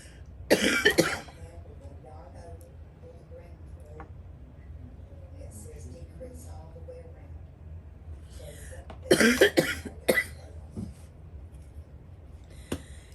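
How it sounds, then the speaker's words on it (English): Two bursts of harsh coughing, one near the start and another later, stand out over a steady low background hum with quiet stretches between. "I still have this cough"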